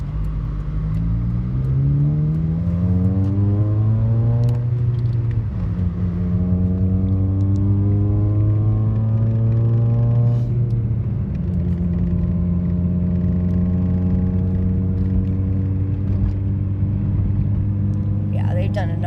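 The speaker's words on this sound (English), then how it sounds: "Then the muffler sounds, you know, a lot louder" A car that has been badly knocked about runs with a loud damaged muffler, giving a steady, heavy exhaust rumble with rising and falling engine pitch, close and continuous, while people talk over it.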